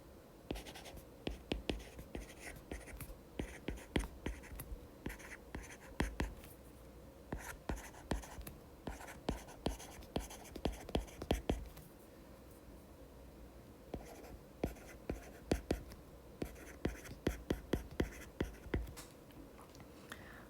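Pen scratching steadily on paper by hand, a quiet, close series of irregular strokes and taps with short pauses, writing out a sentence about bat wings and legs, with no talk.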